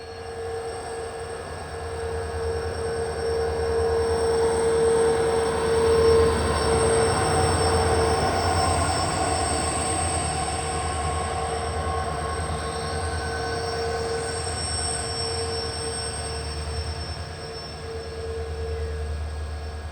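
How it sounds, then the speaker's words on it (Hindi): The Poorna Express passenger train rolls along the rails toward Madgaon Junction, a steady close rumble of wheels with a sustained metallic squeal and faint clatter, heard from on board with no voices. "हमारी ट्रेन बढ़ने वाली है मडगांव जंक्शन की तरफ।"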